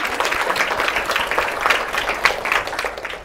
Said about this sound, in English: Can I suggest that we give a big round of applause for the tech guys?